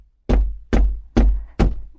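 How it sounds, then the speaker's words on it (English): A fisherman knocks at a priest's house door: four loud, firm knocks, evenly spaced about half a second apart, close by and alone with no voices. "the fisherman went to the priest's house and knocked on his door."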